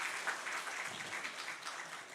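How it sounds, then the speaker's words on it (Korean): Congregation applause at a Sunday church service celebration, soft and somewhat distant, a steady patter of many hands sustained without voices. "박수로 축하해 주시기 바랍니다"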